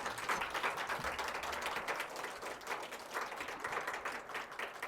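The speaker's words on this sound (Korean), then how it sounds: "자 우리 박수 한번 쳐주세요" A church congregation at a Sunday service claps steadily in applause for the children who led worship, a dense, even patter of many hands throughout.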